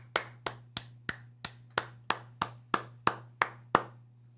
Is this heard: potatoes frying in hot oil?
no